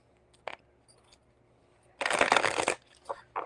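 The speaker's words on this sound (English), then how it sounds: "let's get everything shuffled up here" Tarot cards are shuffled close by in a dense half-second-plus burst of riffling, preceded by a couple of faint card taps and followed by a short flick.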